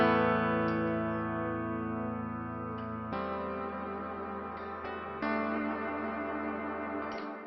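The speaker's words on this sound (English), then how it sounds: "Same thing goes for the Spring Reverb." A guitar chord frozen in the spring reverb of a NuX Atlantic delay and reverb pedal, ringing as a sustained, slightly metallic pad while fresh strums cut in several times, close and without talk.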